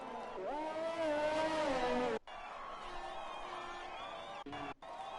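F1 race cars scream past on the Canada circuit in F1 2020, engine pitch rising and falling with gear shifts, loud and continuous with brief cuts.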